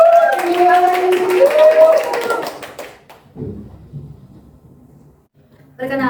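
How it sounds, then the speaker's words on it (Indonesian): Classroom students clap for a classmate about to retell a legend, a brief burst under a teacher's voice that fades after a few seconds, followed by a few scattered taps and a near-quiet pause. "ayo berikan tepuk tangan untuk Cindy"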